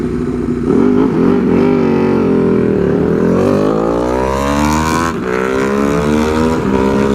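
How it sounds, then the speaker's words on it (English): A Ducati Hypermotard 950 SP motorcycle blares its loud exhaust up close, the engine revving hard and climbing in pitch through several accelerating pulls, raw and harsh with no voices. "The exhaust is so fucking loud."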